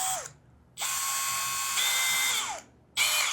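A power drill's chuck whirs closed around a drill bit in two loud bursts of high mechanical whine, each winding up and down with a ratcheting edge, separated by brief quiet gaps.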